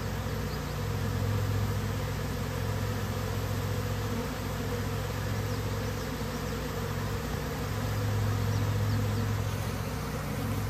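Airborne honeybees from a swarming colony with three supers make a thick, continuous buzz, loud and close, swelling slightly now and then but never letting up.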